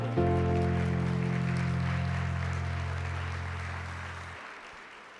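An audience at a corporate celebration evening applauds, a broad wash of clapping beneath a loud sustained musical chord that cuts off near the end while the applause slowly fades.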